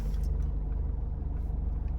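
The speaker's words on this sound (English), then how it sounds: "So we'll start the car now" Mitsubishi Challenger engine running just after starting, a steady close low rumble with a regular pulsing idle throb throughout.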